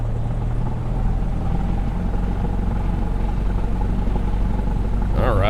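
Cessna 172 with a Lycoming engine drones steadily in a flight simulator game, a loud continuous rumbling hum throughout, with a brief voice at the very end.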